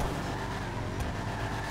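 A car in GTA 5 Online powers uphill with a steady, loud engine drone and no let-up, the motor roaring continuously throughout.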